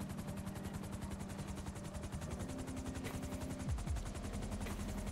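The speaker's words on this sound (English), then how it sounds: "the helicopter is landing at Sandy" A helicopter landing in GTA, heard as a loud rhythmic rotor chop with a steady engine drone, the pitch sliding downward near the end as it settles.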